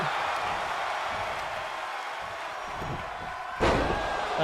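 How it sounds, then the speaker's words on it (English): Pro wrestling action at an AWL Strong & Free show: a dull arena crowd murmur fills the ring, broken by a sudden heavy slam thud near the end. "Stereophonic slams."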